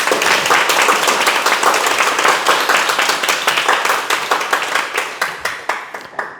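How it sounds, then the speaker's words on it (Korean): An audience at a Buddhist question-and-answer dharma talk claps steadily, dense at first, then thinning into scattered individual claps as it fades out. "박수를 보냅니다."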